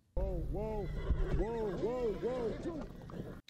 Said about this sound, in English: Those are beautiful horses.